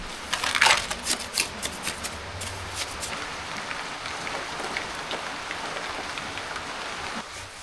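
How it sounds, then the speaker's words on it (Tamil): Heavy rain pours at a hill temple, a dense, even hiss with a few sharper splashes and patters near the start, steady and moderately loud with no voices. "பாருங்கள் கடுமையான மழை"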